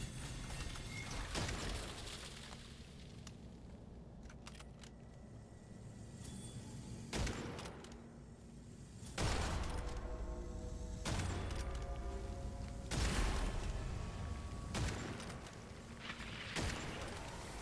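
Witchfire gunfire: a run of heavy, booming shots spaced a second or two apart, each with a ringing tail, over a low game soundtrack, with no talking.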